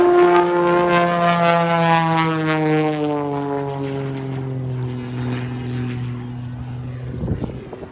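A propeller aerobatic airplane pulls up into a loop, its engine drone loud and strongly tonal, the pitch sliding steadily downward as it climbs and moves away, with no voices over it.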